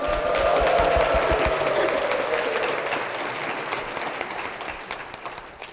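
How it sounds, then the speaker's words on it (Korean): A church congregation applauds to welcome a deacon on stage, strong sustained clapping at first that gradually thins and fades over several seconds, with a faint tone beneath it early on. "박수로 모시겠습니다."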